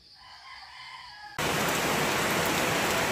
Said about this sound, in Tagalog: Maulan pa rin po ngayong araw na ito.